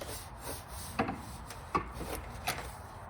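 A large soft-bristle brush scrubs a car engine bay, giving soft, irregular rubbing and swishing strokes with a few sharper scrapes, close and moderately quiet, with no talking.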